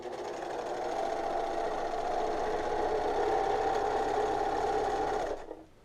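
A serger sewing machine with two needles and two loopers runs steadily at speed for about five seconds, a continuous close whirring hum that cuts off abruptly near the end.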